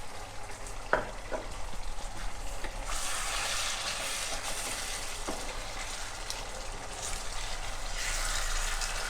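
Pork ribs in soya sauce sizzle steadily in a pan while being stirred, a constant close frying hiss with a few knocks and scrapes of the utensil.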